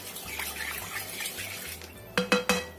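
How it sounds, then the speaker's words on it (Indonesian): A spoon stirs a pumpkin pudding mixture with a little vanilla in a pot, giving soft scraping and sloshing, followed by three sharp clinks of utensil against the pot near the end. "Kita aduk sampai tercampur rata"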